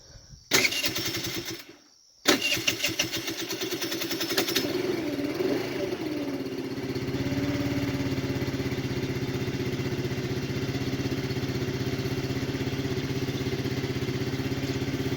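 A 50cc scooter engine cranks with a couple of short starter bursts, cuts out briefly, then catches and settles into a steady buzzing idle that carries on loud and close.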